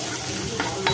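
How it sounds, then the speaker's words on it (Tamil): Sliced onions and curry leaves sauté in a pan for tomato rava khichdi, giving a steady close sizzle with light stirring scrapes and no talk. "இப்போ அதையும் சேர்த்து நல்லா வதக்கிக்கலாம்."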